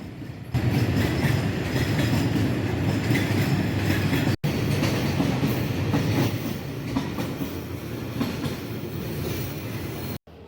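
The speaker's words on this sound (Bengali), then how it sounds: "চট্টগ্রামমুখী আরেকটি কন্টেনার ট্রেন আমাদের বিমানবন্দর রেল স্টেশন অতিক্রম করে যাচ্ছে" A Chittagong-bound container train passes through Airport railway station in Dhaka with a steady, loud rumble and rhythmic clatter of wagon wheels, heard close and continuous.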